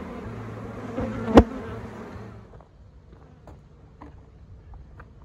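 Honey bees at the entrance of a queenless hive, a soft steady buzz of many insects over a breezy outdoor hiss, broken by one sharp knock partway through before the sound settles quieter.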